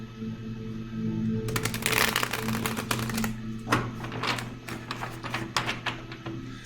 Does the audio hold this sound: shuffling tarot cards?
yes